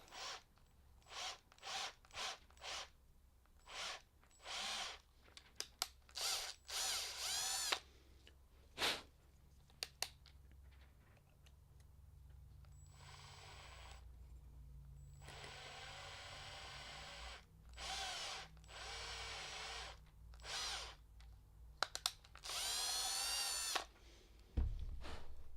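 Repeated bursts of a power drill whirring through kick drum pedal parts in short and longer runs, with brief pauses and rubbing between them, fairly close and without talk.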